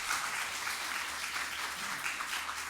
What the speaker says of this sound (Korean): 한번 응원의 박수 한번 할까요?